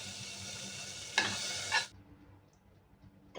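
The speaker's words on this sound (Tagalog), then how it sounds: "magmimelt na po tayo ng margarine sa isang saucepan o kaya maliit na kaldero" Margarine, about two tablespoons, melting in a small saucepan, gives a steady sizzle under a spoon stirring, with two louder scraping bursts before it drops to near quiet.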